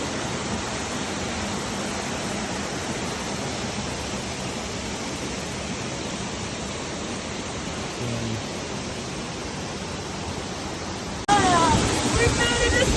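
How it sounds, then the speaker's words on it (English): A waterfall in Bwindi rainforest, Uganda, roars as a steady, loud, broadband rush of falling water, close and unbroken, growing slightly louder near the end. "We made a discovery. It's a waterfall."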